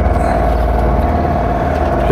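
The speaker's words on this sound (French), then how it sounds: "J'ai remis le moteur." A sailboat's engine running steadily at sea, a loud, constant low drone with a tonal hum, close and unbroken.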